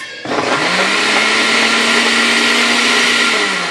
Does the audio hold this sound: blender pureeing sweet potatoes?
yes